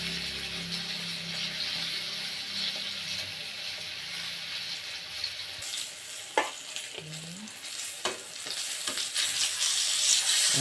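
Fish frying in hot oil, a steady close crackling sizzle with a few sharp pops and clatters near the end as the fish is moved in the pan.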